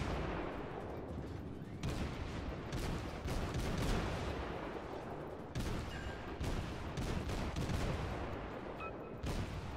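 Rapid-firing naval cannons on warships in World of Warships gameplay, a dense, continuous volley of booming shots with sharp repeated reports layered over one another for the whole stretch.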